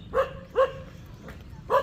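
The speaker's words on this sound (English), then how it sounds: "One barking at me is called Panda" A local dog in Catarman, Philippines, barks three or four sharp, fairly close barks in an uneven rhythm over a quiet background.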